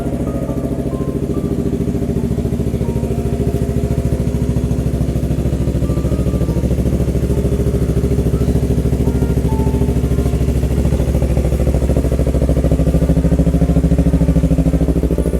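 A 2017 Yamaha YZF R3 motorcycle engine running steadily at idle, a loud, close, even throb that holds without revving for the whole stretch, with no talking.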